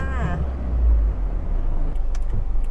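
A 2012 Isuzu D-Max Spark S pickup pulls away with a low engine rumble and road noise, while someone talks briefly at the start.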